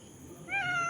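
A cat utters one short, faint meow partway through, over quiet background noise, somewhere near a spot where several cats are being fed.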